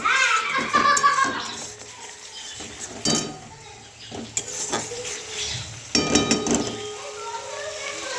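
Soft, pressure-cooked soybean chunks go into a pan of sizzling fried masala, with clattering utensil scrapes, stirring and bursts of sizzle, close by, while children's voices and talk sound in the background.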